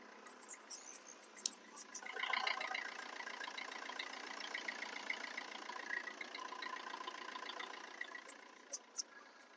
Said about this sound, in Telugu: ఇంజన్ బీటింగ్ అయితే ఈ విధంగా అయితే ఉంది.